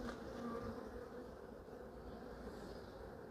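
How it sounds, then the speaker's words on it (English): Grumpy honey bees buzz steadily and loudly around an open hive during an inspection, a dense continuous drone with no talking. "So these bees are grumpy."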